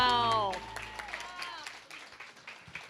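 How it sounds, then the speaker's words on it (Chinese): An audience at a church's joint Christmas Sunday service claps in a scattered, moderately loud round of applause. The applause follows a brief voice at the start and continues under light voices. "掌声！"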